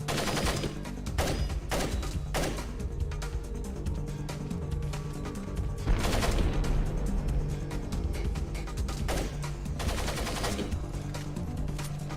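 Gunfire in Tom Clancy's Splinter Cell during a Georgian coup mission: repeated bursts and single shots cracking over a continuous low rumble, spread irregularly and moderately distant.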